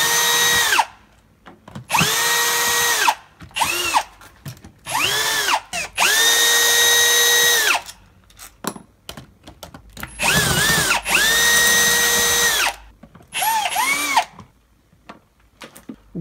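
A Vigor electric drill switched on and off repeatedly, loud whirring motor bursts of one to two seconds separated by short silences, each spinning up and winding down, with no talk.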